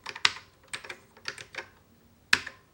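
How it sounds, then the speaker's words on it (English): Typing on a stiff Commodore computer keyboard, a handful of close, crisp key presses in uneven bursts with short pauses between them. "keyboard works, which is good, but it's very, very stiff"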